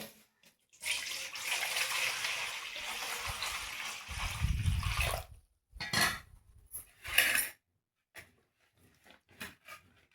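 Okra being washed in water, with a burst of running, splashing water followed by a louder pour, then intermittent sloshing and light knocks of the vegetables against a vessel, close and fairly quiet.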